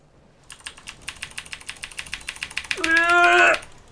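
A house cat gives one clear, drawn-out meow close to the microphone, right after a run of quick, regular computer keyboard clicks from someone typing nearby.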